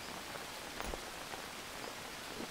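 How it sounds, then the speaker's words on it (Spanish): Steady rain falls in the jungle survival game Green Hell, a continuous hiss of drops on foliage and ground with a few louder splashes, with no talk. "Y ahora que llueve todo el juego."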